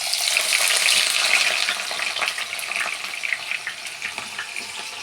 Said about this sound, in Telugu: ముందుగా మనం ఆనియన్స్ ఫ్రై చేసుకోవాలి